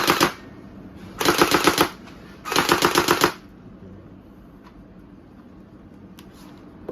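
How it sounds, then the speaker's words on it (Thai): An electric M416 gel blaster toy gun fires on automatic in three rapid bursts, the first brief and the next two longer, each a loud, fast mechanical rattle, followed by quiet with a couple of faint clicks. "สับมาตรงนี้ก็จะเป็นไฟฟ้า ยิงแรงอยู่นะฮะ"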